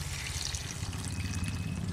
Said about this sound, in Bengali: ফুল কটা এবার পরিষ্কার করে ধুয়ে নিই।